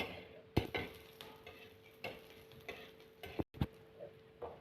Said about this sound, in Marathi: आता त्यातच आपण मिरच्या टाकू, लसूण टाकू, म्हणजे थोडंसं भाजून घेऊ